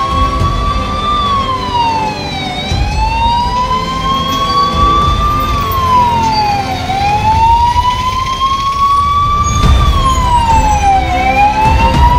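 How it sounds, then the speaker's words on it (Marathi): A fire brigade fire engine's siren wails loudly and close, its tone sweeping slowly up and down in repeated cycles over the rumble of the moving truck, with no speech. "काही वेळातच अग्निशामक दलाची गाडी घटनास्थळी पोहोचून"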